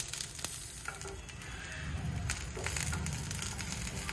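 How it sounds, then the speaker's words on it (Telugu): Green chillies fry in oil for dosakaya pachadi with a close, steady sizzle. Soft crackles and occasional stirring scrapes run through it, and no voice is heard. "ఆయిల్ వేసుకొని కొద్దిగా పచ్చిమిరపకాయలని దోరగా వేయించుకోవాలి"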